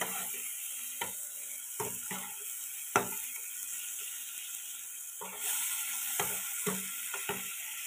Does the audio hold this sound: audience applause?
no